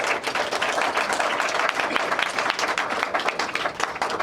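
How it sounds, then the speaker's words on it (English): A conference audience at a closing session gives the speakers a dense round of applause, many hands clapping loudly and steadily throughout. "So thank you to all the speakers. A round of applause."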